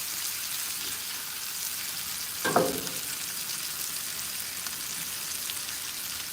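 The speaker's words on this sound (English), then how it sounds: "Sear them, Chef, till you can't no more." Sausages searing in a hot pan for breakfast, a steady close sizzle and crackle throughout, with one brief louder spatter near the middle and no talking.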